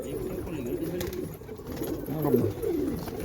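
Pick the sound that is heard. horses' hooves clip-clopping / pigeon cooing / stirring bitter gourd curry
pigeon cooing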